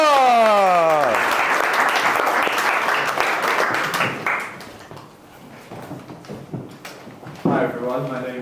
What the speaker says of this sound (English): let's give Basim a big round of applause